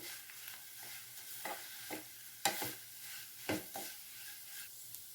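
Flattened rice being stirred in a pan, faint frying sizzle under a few sharp scrapes and clinks of a spoon at irregular intervals.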